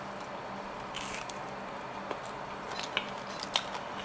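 A crunchy salt-grilled fish head is chewed close up, giving a few faint, crisp crackling bites over a quiet background with no talk.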